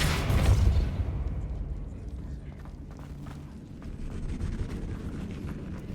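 A Depulso force spell cast in Hogwarts Legacy, a loud booming burst at the start that fades into a rumbling, crackling tail with scattered pops.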